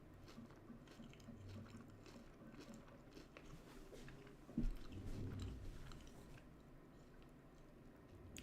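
Close, quiet chewing of toast topped with crunchy peanut butter, banana and crispy onions, soft crunches and squishy bites with a slightly louder burst midway.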